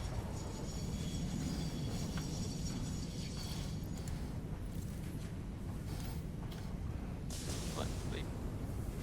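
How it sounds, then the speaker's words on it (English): Train passing in the factory-building game Satisfactory, a continuous low rumble and rolling rail noise holding steady for several seconds, with a few brighter metallic swells late on. "I hear a train."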